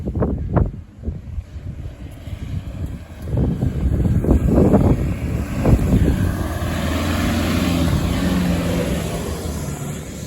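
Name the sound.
strong desert wind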